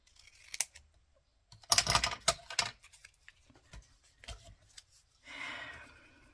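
Paper being cut with scissors for a tag in a vintage botanical journal, a few sharp snips and crisp rustles spread out with short quiet gaps, close by.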